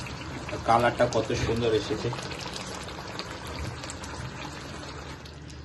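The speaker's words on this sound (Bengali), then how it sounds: "বন্ধুরা দেখতেই পাচ্ছেন কত সুন্দর ফুটছে" Doi katla, a katla fish curry in yogurt gravy, bubbles and simmers in a pan with a soft, continuous burble. A voice talks briefly over it at the start, then the boiling continues alone.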